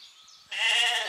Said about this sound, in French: Ces moutons sont magnifiques.